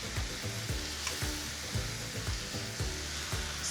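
Spinach salted in a hot pan sizzles and fries steadily, with a dense continuous crackle and soft repeated stirring scrapes every half second or so, close and fairly loud, no voices.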